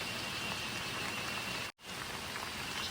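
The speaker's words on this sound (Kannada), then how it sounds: "ನೋಡಿ ಮಳೆ ಬರ್ತಾ ಇದೆ ಈಗ ಸ್ವಲ್ಪ" Constant hiss of rain falling, steady and fairly soft, with one sudden brief dropout near the middle.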